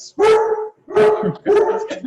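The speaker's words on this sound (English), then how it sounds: "My dog's going crazy." A dog barks indoors in three loud, close, separate barks in quick succession, heard on its own.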